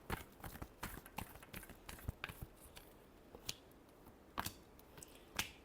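Cards shuffled by hand in a quiet room during an astrology card reading, a sparse series of soft irregular flicks and taps, close but faint, with no talking.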